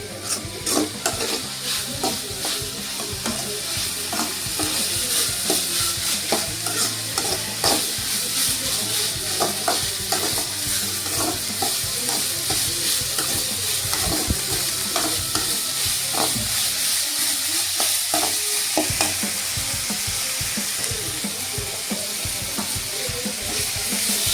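Kambu noodles sauté in a pan with a dense, continuous sizzle and frequent stirring scrapes, close and fairly loud, with no talk over it.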